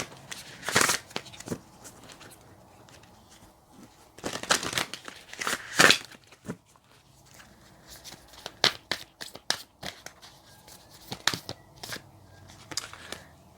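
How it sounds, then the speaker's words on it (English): A Moonology oracle card deck being shuffled by hand, close and quiet, in irregular bursts of riffling and flicking with brief pauses between, alone without talk. "Just give those one more shuffle as well."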